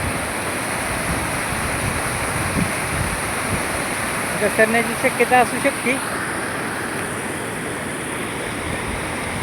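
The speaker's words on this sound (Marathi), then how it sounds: "तर बघू शकता तुम्ही हा धबधबा" A waterfall with a strong, fast current roars steadily as continuous broadband rushing water, and a voice speaks briefly over it midway.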